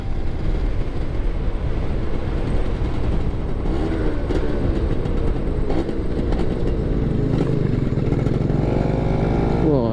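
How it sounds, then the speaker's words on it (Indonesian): A Yamaha F1ZR two-stroke motorcycle engine runs loud and close, holding a continuous buzzing drone with rising and falling revs throughout. "Motor gua mesinnya rasanya kayak mau copot bro,"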